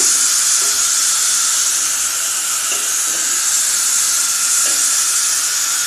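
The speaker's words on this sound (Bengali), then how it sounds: "একটু ভালো করে নাড়াচাড়া করে নেব।" Ground cumin, coriander, pepper and cloves sizzling in a pan as they are stirred, producing a loud, steady hiss with a few faint scrapes and knocks underneath.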